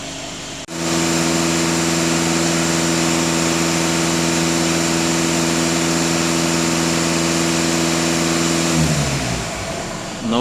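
A VW Passat DFGA diesel engine starts and runs at a steady, loud idle close by, then the revs rise briefly near the end.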